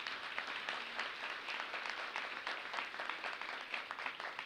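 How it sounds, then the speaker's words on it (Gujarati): An audience at a school lecture series applauds, dense steady clapping from many hands heard from some distance, fairly soft and continuous throughout. "ખરેખર ફરીથી એક વખત આપણે તાળીઓથી વધાવી લઈએ."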